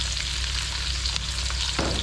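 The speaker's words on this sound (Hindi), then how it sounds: "तो ये गरम मसाले को हल्का हल्का फ्राई कर लेंगे।" Whole garam masala spices and chopped onions fry in hot oil in a village-style pot, a steady loud sizzle and crackle up close with faint stirring scrapes.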